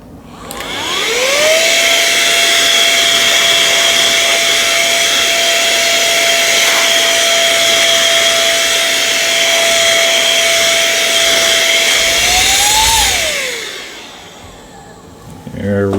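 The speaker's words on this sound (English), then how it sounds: "I'm going to do one quick dust off just to make sure I have no debris on the" Air blows dust off an Asus CX55 Chromebook before carbon fiber vinyl goes on. A loud, steady hiss runs for about twelve seconds with a constant tone, then rises in pitch and cuts off.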